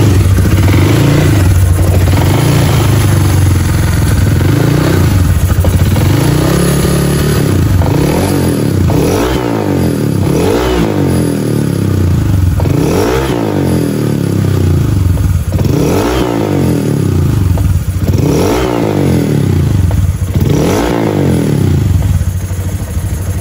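Bored-up Honda Vario 150 scooter engine with overheating trouble runs close and loud throughout, rising and falling in repeated revving swells about every two seconds, with mechanical clatter over a steady idle.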